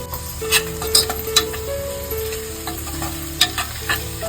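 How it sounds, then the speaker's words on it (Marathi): Onion and tomato sauté with Kashmiri chillies for a masala khichdi tempering: a steady, close sizzle broken by occasional clinks and scrapes of a spoon against the pan, with no speech. "इथे ना आपला कांदा टमाटर चांगला परतून झालेला आहे."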